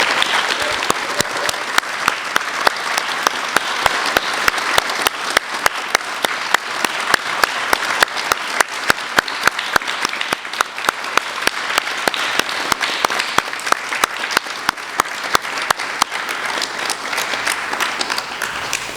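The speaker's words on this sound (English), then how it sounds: "So I think he deserves a round of applause and our thanks." A middle school audience at a closing ceremony breaks into sustained applause, a dense, steady wash of many hands clapping at even loudness for the full stretch with no voices over it.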